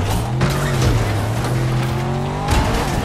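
A Hellcatcher car with bulletproof tires from a video game roars loudly and close by, its engine note holding steady and then shifting, with a brief tire-squeal or skid texture.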